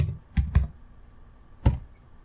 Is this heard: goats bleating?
no